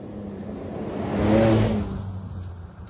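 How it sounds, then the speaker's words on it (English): Ford Ranger Raptor midsize pickup truck engine on the move, a low hum that swells into a brief revving surge midway and then settles back, moderately loud with no talking. "All right, driving the Ranger Raptor."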